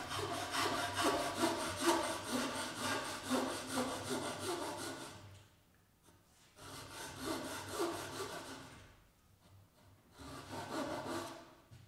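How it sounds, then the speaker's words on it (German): A hand saw cuts a wooden miter joint, tilted slightly outward to undercut the miter. Three runs of rapid, rhythmic back-and-forth rasping come close up, separated by short quiet breaks. "Dann kippen wir die Säge leicht nach außen und hinterschneiden die Gehrung"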